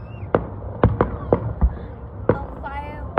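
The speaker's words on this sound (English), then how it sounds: "Oh, fireworks." Fireworks explode in a series of sharp, fairly distant bangs and pops, about eight irregularly spaced bursts over a low background rumble, with people talking quietly in between.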